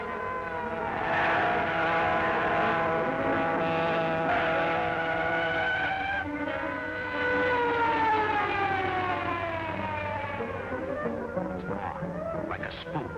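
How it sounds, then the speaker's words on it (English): Police car siren wailing loudly and continuously, rising and falling in long sweeping tones with engine noise beneath, coming from an old radio drama chase scene. "Police car following us, Kato."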